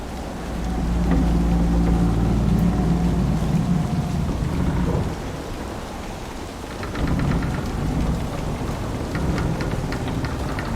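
In Dragon Age Inquisition, steady heavy rain pours during a storm while deep rolls of thunder rumble underneath, swelling and easing over about ten seconds with no voices.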